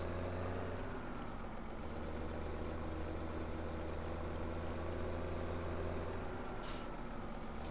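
Tractor engine idling in Farming Simulator 17, a steady low drone with a faint harmonic hum that runs throughout, joined by a brief hiss of air near the end, with no voices.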